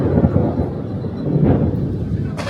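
Deep rumbling thunder rolls continuously through a lightning storm, loud and close with a broad, sustained roar that swells slightly midway.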